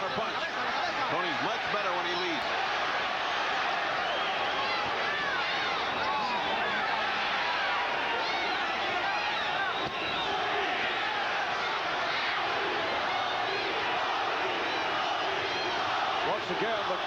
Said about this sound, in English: the crowd chanting for Tony Lopez, who landed the left hook